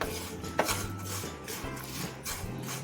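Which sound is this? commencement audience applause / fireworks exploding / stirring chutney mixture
stirring chutney mixture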